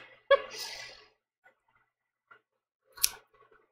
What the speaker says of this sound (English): sometimes I feel like I have better control with scissors.